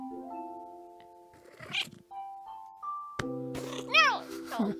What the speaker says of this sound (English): Hey, cat.